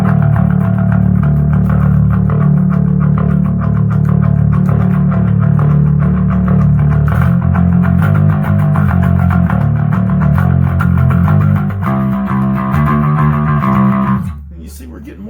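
Bass guitar running through a preamp with the drive raised from 12 to 3 o'clock, giving a loud, sustained, distorted tone with repeated played notes that shift near the end before cutting off.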